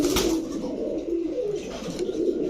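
Pigeons coo close by, a continuous soft, low, throaty murmur with repeated rolling calls and no talking.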